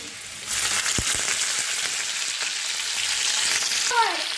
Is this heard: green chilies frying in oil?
yes